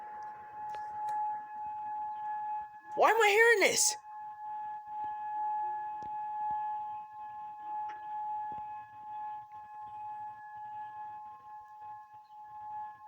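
Distant wailing sirens heard faintly far from any nearby source, with a louder rising-and-falling burst for about a second midway and a steady high tone running underneath throughout, while a person speaks briefly.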